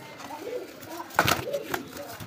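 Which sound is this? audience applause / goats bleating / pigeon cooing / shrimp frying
pigeon cooing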